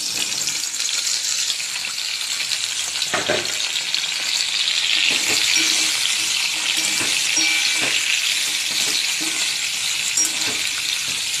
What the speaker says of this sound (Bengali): আলুটা তুলে নিয়ে এবার ঝিঙেটা ভাজবো।